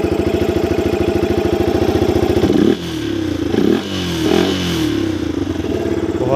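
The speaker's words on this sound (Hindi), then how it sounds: "मैं इसको स्टार्ट कर दूँगा," A modified Yamaha R15 V2 motorcycle engine runs close by with a rapid, loud idle that is revved in several rising and falling bursts.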